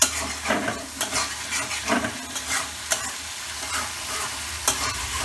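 Masala fried and stirred in a karai over raised heat for a pointed gourd and egg curry: loud, close sizzling with repeated scraping strokes of a spatula in an uneven rhythm, with no talking.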